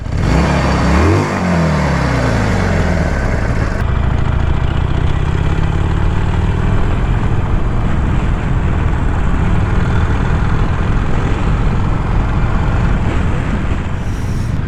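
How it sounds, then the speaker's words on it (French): A Honda CMX 500 Rebel S motorcycle engine runs loud and close, a throaty twin-cylinder rumble that revs briefly at the start and then settles into a steady, vibrating idle. "Le moteur n'a pas du tout la même façon de ronronner, de vibrer."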